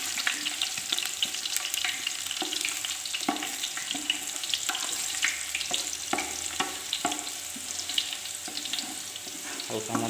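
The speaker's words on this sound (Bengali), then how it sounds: "প্রথমে পাই প্যানে আমি তেল নিয়ে নিয়েছি, এতে রসুন দেবো।" Garlic sizzles and crackles in hot oil in a frying pan at close range, with scattered clinks and scrapes from stirring over a steady fizzing hiss.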